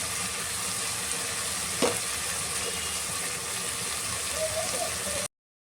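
Chopped tomato with turmeric powder and salt sizzling in a pan, a steady close frying hiss with a brief stir partway through.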